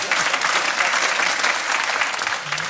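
Audience applause at a comedy podcast show, a thin, patchy spatter of clapping from only part of the crowd, fairly close and continuous for a few seconds.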